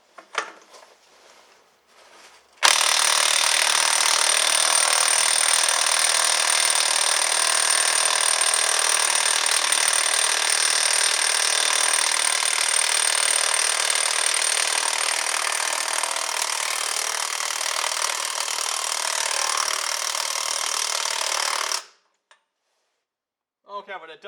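A DeWalt impact wrench hammering at the wheel bolts of a tractor tire, a loud continuous rattling buzz held for about twenty seconds before cutting off, close by, with brief talk before it starts.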